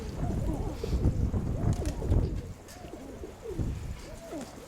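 Pigeons coo in repeated soft, rolling calls, some overlapping, outdoors near a pigeon loft, with light wind rumble in the background and no clear voices.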